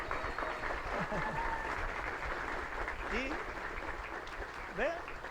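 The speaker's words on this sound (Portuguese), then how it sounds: "Muita felicidade de todos nós, um forte aplauso." Applause from an audience at a religious gathering greets a birthday, steady and fairly soft clapping with faint voices calling out over it.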